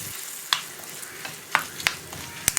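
Chili powder stirred in hot oil for a capsicum moru curry, a low background sizzle broken by a few sharp scrapes and clinks of the spoon against the pan, close and moderately loud with no talking.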